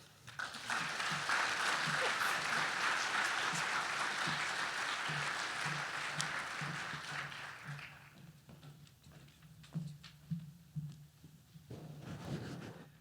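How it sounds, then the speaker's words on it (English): A luncheon audience applauds award winners in a dense, sustained burst of clapping for about eight seconds, which then thins into scattered claps and light room noise. "Give them a nice big round of applause once again"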